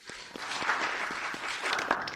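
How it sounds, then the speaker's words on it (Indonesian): A crowd gives lively applause to welcome Ibu Han to the stage, a continuous, moderately distant wash of clapping with scattered sharper claps and no clear talking. "saya harap kita bisa berikan tepuk tangan meriah untuk menyambut Ibu Han ke panggung"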